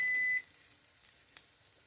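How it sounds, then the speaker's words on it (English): A kitchen timer in a home kitchen, heard while honey-garlic glazed perch is cooking, gives one loud, steady electronic beep that stops after a moment, followed by quiet room noise. "there goes the timer for that"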